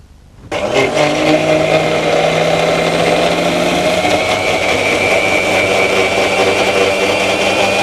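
Mixer grinder starting abruptly and running steadily while grinding soaked sprouts for a hair pack, a loud continuous whirring motor drone with a constant pitch, close and alone.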